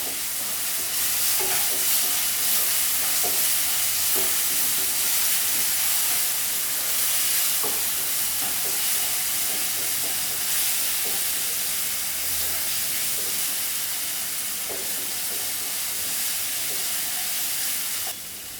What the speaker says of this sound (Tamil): இஞ்சி பூண்டு பேஸ்ட் வந்து ஒரு ஸ்பூன் போடுறேன்